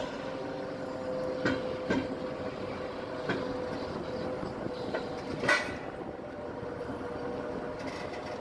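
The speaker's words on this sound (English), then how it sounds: "As the locomotive moves forward, its wheels transition smoothly from the tracks to the trailer's surface, guided by the ramp's alignment." A locomotive rolls slowly off rail tracks onto a heavy-haul trailer ramp, giving a steady low rumble of rail movement with occasional sharp metallic clicks and knocks from the wheels.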